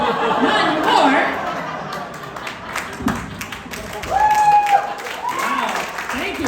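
A comedy club audience in Texas applauds after a stand-up joke, a broad steady patter of clapping with chatter and some laughter mixed in, while a voice cuts through near the middle.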